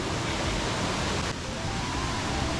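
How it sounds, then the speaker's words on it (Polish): Steady broadband rush of a waterfall in Luang Prabang, Laos, with water crashing continuously at close range and no voices. "Mamy ten wodospad."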